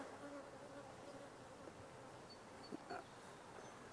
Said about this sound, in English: See, this bee's going to sting me.